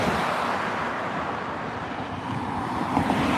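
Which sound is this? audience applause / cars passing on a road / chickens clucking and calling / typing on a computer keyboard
cars passing on a road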